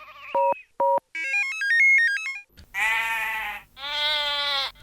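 Sheep bleat loudly several times, each a long wavering, harmonic-rich cry, heard alone at close range after a short run of electronic tones.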